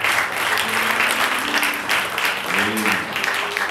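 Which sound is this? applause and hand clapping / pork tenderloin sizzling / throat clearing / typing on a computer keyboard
applause and hand clapping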